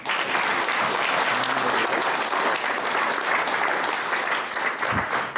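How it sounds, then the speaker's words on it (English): An audience at a graduation for a Guide Dogs for the Blind class applauds steadily, with dense, continuous clapping that fills the whole stretch. "Let's have one more round of applause for the graduating OMI class."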